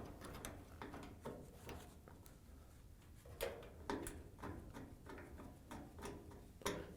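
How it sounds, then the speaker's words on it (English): Screw being driven to mount a replacement terminal block on a Whirlpool, KitchenAid or Maytag appliance, heard as a string of sharp mechanical clicks and ratcheting ticks at an irregular rhythm, close up with no talk. "we're going to put one screw in and then guide it back into the mounting position and put the first screw in"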